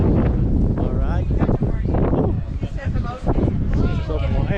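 Strong, cold November wind at the Cliffs of Moher, Ireland, buffets the microphone in a steady roar, with people talking over it throughout.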